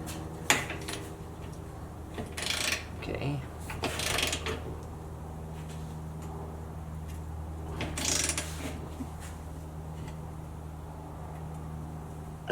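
Mechanical whir and ratcheting clicks from a Milwaukee Fuel cordless ratchet tightening a bolt toward 75 foot-pounds, several short bursts over a steady low motor hum, close and fairly quiet, no talk.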